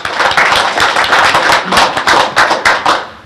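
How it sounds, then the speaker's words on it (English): Loud, dense applause from the audience at a municipal and school election candidates' forum in Ste. Genevieve, Missouri, with close, rapid hand claps filling the whole stretch. "let's give them a little applause for their efforts"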